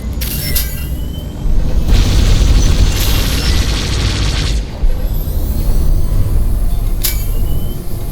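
A starfighter blasts a path through an asteroid field in Star Wars Squadrons, producing heavy, rumbling booms and bursts over a continuous roaring engine drone, with a couple of sharp cracks near the end.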